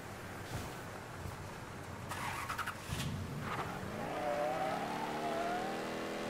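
A car engine in the video game Mafia III revs up while overtaking, the pitch climbing steadily toward the end over road noise, with a few sharp knocks along the way.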